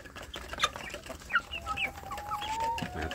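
Free-range village chickens on a farm give scattered, fairly faint clucks and short calls against quiet background ambience, with no speech.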